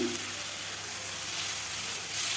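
Steady, close hiss of ridge gourd and potato frying in a pan, continuous and even throughout with no talking.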